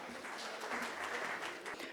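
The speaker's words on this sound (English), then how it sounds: "Let's have a huge round of applause," Modest applause from an audience at a corporate business talk welcoming a speaker, a steady patter of claps at moderate distance, sustained throughout without voices.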